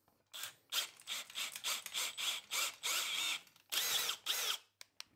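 An M8 thread being cut with a hand tap during a silent compressor teardown, a series of short, close grinding and scraping strokes in an uneven rhythm, alone.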